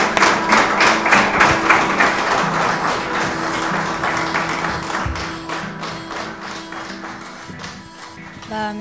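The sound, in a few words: audience applause welcoming a singer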